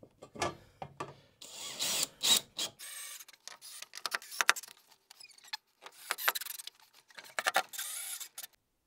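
Short bursts of a power driver spinning a screw into a campervan window frame, several start-stop runs with pauses between them, close and fairly quiet, no talking.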